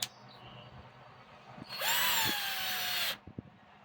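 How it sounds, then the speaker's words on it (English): A cordless power driver runs in one burst of about a second and a half, driving screws back into the transmission of a Team Associated RC truck, close and loud, with small clicks and handling noises before and after. "now let's just put screws back in it"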